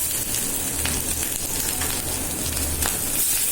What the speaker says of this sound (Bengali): এখন আদা রসুন ধরে একটু তেলে ভাজতে হবে